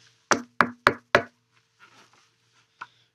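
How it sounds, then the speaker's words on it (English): Four sharp, evenly spaced knocks on a new office door, close and loud, followed by faint shuffling and one last softer tap. "he knocked on my new office door"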